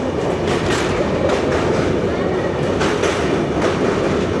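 Dhauli Express passenger train crossing the Mahanadi river bridge, heard from inside as a loud, continuous rumble with rhythmic clattering of wheels over the rails.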